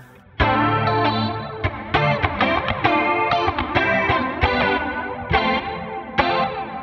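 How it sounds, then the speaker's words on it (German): A clean electric guitar played through a Line 6 Helix with chorus and reverb, ringing out strummed and picked chords in a wide, shimmering, continuous passage, loud and up front with no talking. "das wäre jetzt mal der Sound. Chorusmäßig gerade, Reverb"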